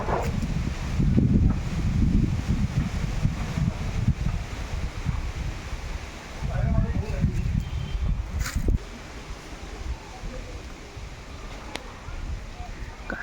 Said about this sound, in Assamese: ভাল বতাহ দি আছে দেই